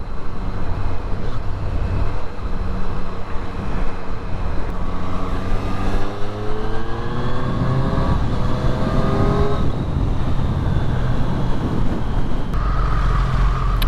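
A Triumph Street Triple RS motorcycle engine revs and accelerates through rising gears on a road, loud and close, with wind rush underneath.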